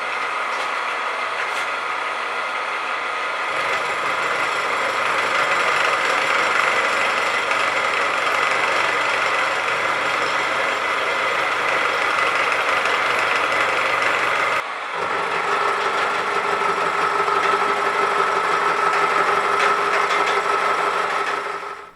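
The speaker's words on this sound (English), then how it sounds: "using a fly cutter, I'll just flatten it out" A fly cutter spins on a milling machine, flattening the steel platen of a knife maker's belt grinder, giving a continuous, close machine whine with a brief drop midway.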